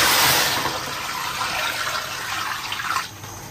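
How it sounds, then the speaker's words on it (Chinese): Water poured into a pot over steak in a home kitchen, a steady loud splashing rush that eases slightly and ends with a short final gush. "牛排下锅加水。"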